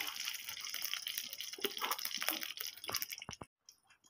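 Oil is poured into a kadai for dalma, a close, quiet trickling that splashes for about three seconds, then stops abruptly and leaves near silence.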